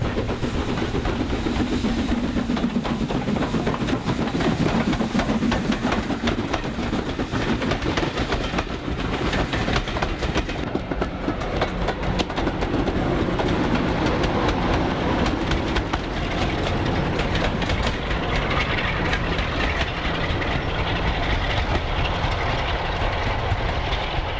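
A Crab steam locomotive passes near Burrs Country Halt, tailed by a Class 45 diesel, giving a sustained loud rumble with dense clickety-clack of wagon wheels and some hiss, holding steady throughout with no talk.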